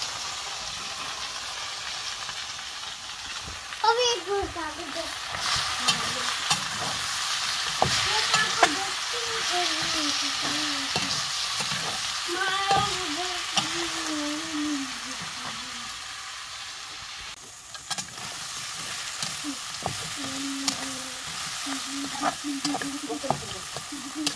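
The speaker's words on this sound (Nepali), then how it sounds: "अब लाउँछु टमाटर अनि लगाउ मसला अदुवा लसुन।" Tomatoes, spices, ginger and garlic fry and get stirred in a pan of goat meat in a Nepali village kitchen, giving a steady close sizzle with scraping stirs and a few sharper clatters throughout.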